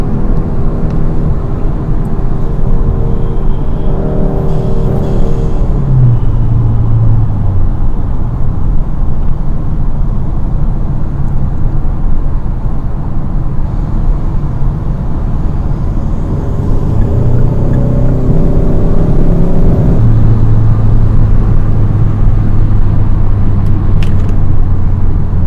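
A Hyundai Sonata N Line fitted with a new cold air intake drives along a road, giving a steady close engine and road rumble with a few shifts in engine tone, and no talking.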